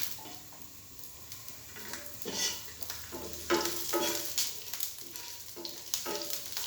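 Garlic frying in a little oil in a pan: a steady, soft sizzle runs throughout, broken by light clatters and scrapes as the pieces are stirred.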